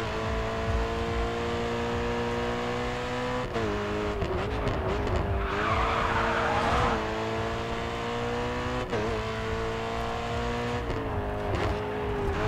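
A BMW M3 drifts around a wide race circuit in the racing game Grid 2, its engine roaring continuously while the tires squeal and scrub through long slides, loud and close with no talking.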